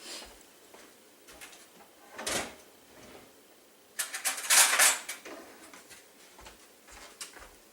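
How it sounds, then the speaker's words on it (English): A kitchen drawer rattles and metal cutlery clinks as a big spoon is pulled out while making a sweet potato pie, with several sharp, close clatters separated by quiet gaps. "So let me grab a big spoon."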